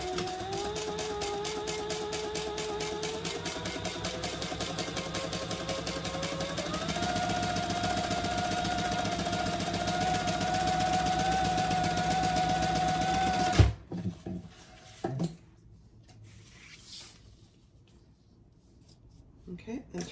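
A sewing machine stitches the full seam allowance of a Bartleby sling in a fast, steady mechanical chatter that speeds up partway through, then stops abruptly and leaves quieter handling noises.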